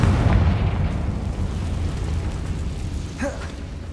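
A Confringo fire spell bursts in Hogwarts Legacy on PS5 with a heavy booming explosion, loud and close, rumbling low throughout and slowly fading with faint crackle.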